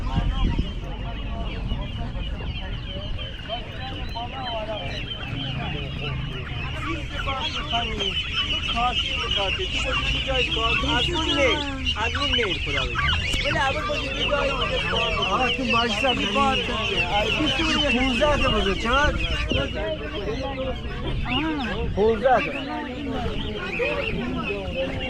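A dense crowd of chickens and chicks clucks and cheeps without pause at the weekly poultry market in Kuchesfahan, Rasht, Gilan, Iran, with people talking throughout.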